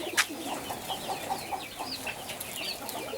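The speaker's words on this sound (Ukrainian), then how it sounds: "Тут голуби." Pigeons coo in soft, repeated rolling calls close by, with a brief sharp noise near the start and faint background ambience, no speech.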